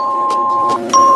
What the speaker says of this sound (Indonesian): Lalu bel berbunyi.